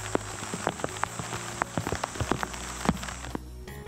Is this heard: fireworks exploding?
no